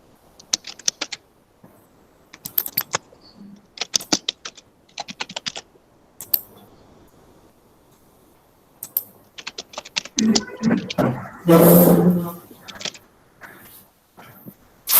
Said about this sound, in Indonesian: Masih mengetik Pak?